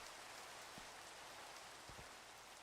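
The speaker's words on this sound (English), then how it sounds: "Ah, the rain has stopped." Steady rain falling in the video game Minecraft, a constant broadband hiss of drops on surfaces with a couple of faint low thumps, fairly quiet and even throughout with no talking.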